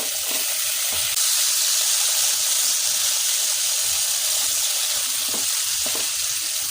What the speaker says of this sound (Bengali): আমি বেগুনগুলি ভাজতে দিয়ে দিলাম, ভাজা হলে আমি উল্টিয়ে দেবো